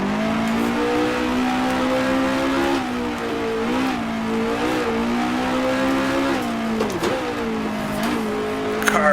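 Race car engine in a circuit racing video game, revving steadily with sustained tonal whine that dips and climbs through corners, with faint tire squeal as the car lurches; loud, continuous, no talking.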